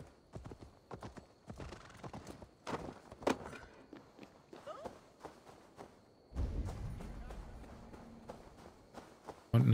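Horse hooves clip-clop in a steady walking rhythm in Assassin's Creed Valhalla, with a whinny partway through and heavier thumping as the horse picks up pace, heard beneath a voice.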